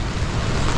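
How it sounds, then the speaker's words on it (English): Steady rushing water of a river near the Guatemala–Belize border, a continuous broadband wash with some wind noise, heard alone at close range through the brief moment. "Beautiful river there."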